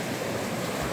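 Sea surf on a Castropol beach on the southern coast of Crimea gives a loud, close, unbroken wash of waves, with a faint wind-like hiss blended in.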